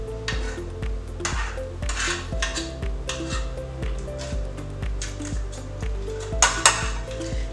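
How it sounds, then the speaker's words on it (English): Butter being spread to grease three 9-inch cake pans, with soft squishing and smearing plus light clinks of metal pans under steady background music, with no talking. "we're going to put butter on the pan and grease it up"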